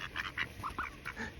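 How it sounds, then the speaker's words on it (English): Mallard ducks quacking nearby, a quick series of soft, nasal calls in short bursts, fairly faint and without any voices over them. "Cute ducks."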